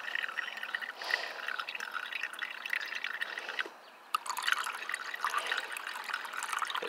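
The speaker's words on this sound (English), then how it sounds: "you can see how nice and clear that fluid is coming through that filter" Gold refining fluid dripping and trickling through a filter, a soft continuous liquid patter with small splashes, close and fairly quiet.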